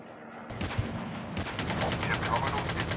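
Sniper rifle fire in a Call of Duty battle royale match, a sharp report near the start followed by rapid repeated gunfire that builds and stays loud, with some talk underneath.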